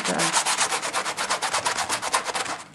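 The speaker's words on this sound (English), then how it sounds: "sanding away a little bit at some of this, mostly on the white" Sandpaper rubbed briskly over painted denim shorts, mostly on white-painted areas, in a steady rapid series of close, loud rasping strokes.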